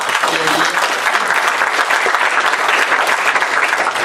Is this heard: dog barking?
no